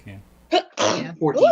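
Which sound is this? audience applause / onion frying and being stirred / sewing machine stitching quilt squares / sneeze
sneeze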